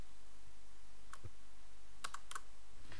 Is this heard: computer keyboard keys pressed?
yes